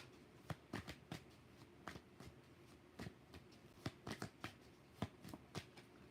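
Tarot cards shuffled by hand, a string of crisp, close snapping flicks and riffles at an irregular pace over a faint hushed background, no talking.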